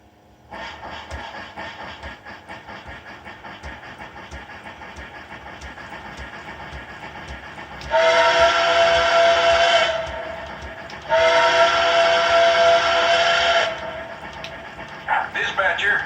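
Model Nickel Plate Road 2-8-4 steam locomotive, battery-powered dead rail conversion, running steadily with a mechanical hum, then sounding two long, loud whistle blasts, followed by a few short toots near the end.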